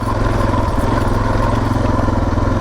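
A dual-sport motorcycle engine runs loud and close, with a fast, steady, pulsing rumble and a faint mechanical clatter.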